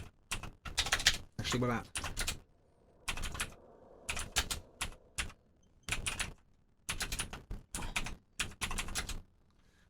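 Fast bursts of close computer keyboard typing, clattering in quick runs separated by short pauses, with a brief spoken question in between.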